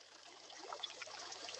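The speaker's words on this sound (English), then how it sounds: "that is the sound of the channel filling up with more water" Water trickles into a freshly dug channel in a meadow, a faint, gentle bubbling and dribbling that builds slightly, heard alone without voices.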